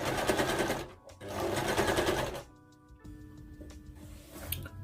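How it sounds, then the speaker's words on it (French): A sewing machine stitching gathers on a sweatshirt runs in two fast, steady bursts of rapid mechanical ticking, then stops, leaving quiet handling sounds and faint clicks. "je vais aussi aller coudre là et je vais froncer de tout quoi"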